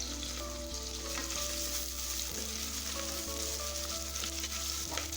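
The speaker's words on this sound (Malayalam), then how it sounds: "എന്നിട്ട് നമുക്കിതിനെ നന്നായിട്ടൊന്ന് വഴറ്റിയെടുക്കണം" Ginger, garlic and slit green chilies sauté in hot oil in a pan, a steady crackling sizzle with occasional stirring scrapes and clinks, close and continuous with no talk.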